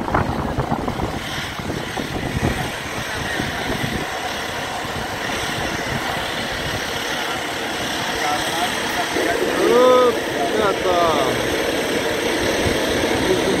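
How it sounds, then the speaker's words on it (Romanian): Propeller airplane engines run up before takeoff on a flight toward the Himalayas near Everest, droning steadily with a rising roar, with people talking over them. "Avionul nostru acum se pregătește de plecare."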